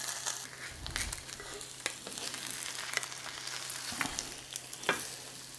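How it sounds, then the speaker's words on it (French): An egg fried in a pan alongside Cambodian lok lak beef and onions, with a close, continuous sizzle and crackle broken by occasional stirring scrapes and pops. "On va y mettre juste un œuf dur. Un œuf sur le plat, pardon."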